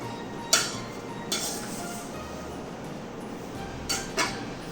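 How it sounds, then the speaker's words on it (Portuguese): A cake spatula scrapes sticky, still-clinging savory panettone dough in a bowl, giving a few sharp, isolated clinks and scrapes spaced apart over a quiet background. "você pode usar ela aqui para raspar, porque facilita na hora de mexer"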